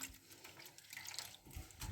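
Water poured from a tap into a small glass in a kitchen while preparing roast chicken, a brief, soft, close splashing and trickling.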